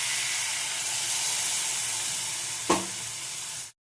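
Water poured into a hot frying pan sets off a loud, continuous sizzle and steamy hiss that holds steady, with a brief clatter near the end before it cuts off.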